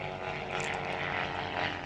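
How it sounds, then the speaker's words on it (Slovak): Zlin Z-226 propeller aircraft, styled as German fighter planes, flying in a simulated air fight over a train at an air show: a steady droning propeller engine at moderate distance, holding a constant roar with slight swells. "Lietadlá Z-226 sú upravené do podoby nemeckých stíhacích lietadiel."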